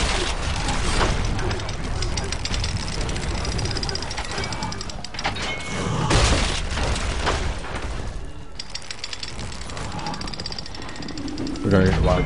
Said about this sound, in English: Three blister shots in a row.